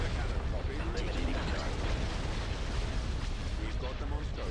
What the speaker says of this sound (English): Direct fire at their laser cannon.